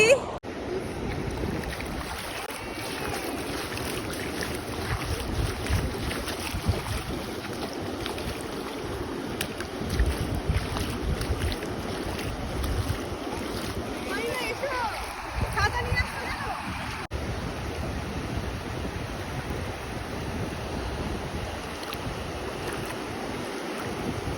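Waves wash and break on Mandarmani beach while wind buffets the microphone, a steady broad roar with surges of surf, and voices talk intermittently throughout.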